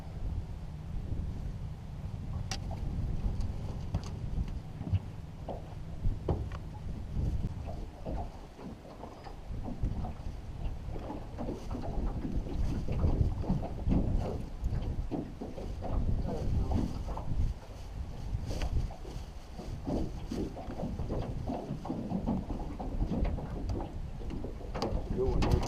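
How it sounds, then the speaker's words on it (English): Strong wind of around 20 miles an hour buffets the microphone on a county lake from a fishing boat, a continuous low roar with gusty rumbling swells throughout and faint water and boat sounds beneath. "the wind's like 20 miles an hour"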